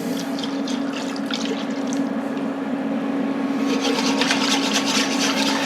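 Milk and heavy cream being poured into a pan of roux for a copycat Panera mac and cheese, a steady close liquid rush that grows fuller and brighter toward the end, alone with no talk.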